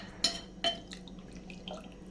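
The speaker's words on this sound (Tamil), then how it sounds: "இப்போது கொண்டக்கடலை வேக வச்ச தண்ணியை சேர்த்துக்கலாம்." Chickpea cooking water poured into a pot in a home kitchen: a few separate splashy drips and pours, fairly close and quiet, with no talking.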